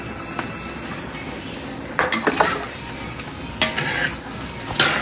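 A spoon stirs roasted chili and coriander powder into a pot of beef curry made with small onions. Close metallic scrapes and a few sharp clinks against the pot come in bursts over a low sizzle, with no talking.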